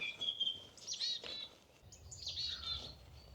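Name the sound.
song thrush singing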